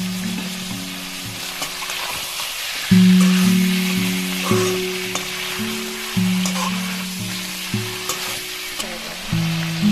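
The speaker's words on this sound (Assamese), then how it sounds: "নিমখখন দি আপোনালোকে ভালদৰে মাংসটো ফ্ৰাই কৰি ল'ব" Chicken pieces sizzle with salt in a pan of oil while a ladle stirs and scrapes at intervals, and a loud low tonal hum from the stove or an appliance runs under it. No talk.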